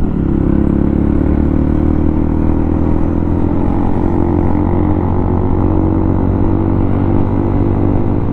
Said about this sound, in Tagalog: Malakas din kasi ang kanyang motor.